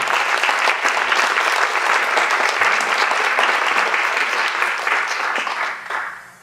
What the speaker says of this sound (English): Please give our platinum sponsor the biggest round of your